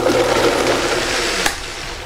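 A Vitamix blender whirs loudly and continuously as it churns chunky carrots with water, ending with a brief knock.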